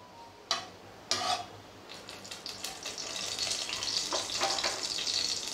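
Cumin, ginger, garlic and green chili frying in hot oil for a ridge gourd masala gravy, a steady close crackling sizzle that builds after a couple of sharp clinks, with no talking.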